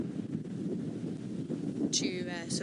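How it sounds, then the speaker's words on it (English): Steady wind buffets the microphone with a low rumble throughout, while a person talks over it, on a safari drive. "it's getting very windy"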